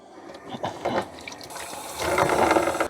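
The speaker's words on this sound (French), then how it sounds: "maintenant, je me lave les mains" Hands being washed under a running tap while preparing fish for smoking: splashing and rubbing under a steady flow of water, growing fuller toward the end, with no voices.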